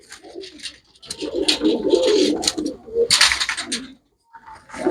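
A pigeon of the savar-ranga variety coos loudly and close by in repeated throaty bursts, with a brief silent gap before the cooing resumes.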